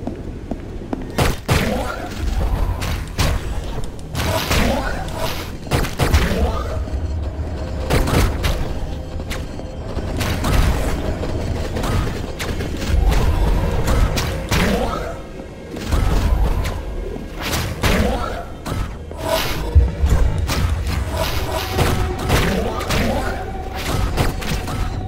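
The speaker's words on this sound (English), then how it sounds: "Freaking pulling out a rocket launcher on me, of all things." Heavy booms and thuds from enemy rocket launcher fire in Hyper Light Drifter, arriving as repeated dense blasts across the clip over a busy game soundtrack, with a voice talking throughout.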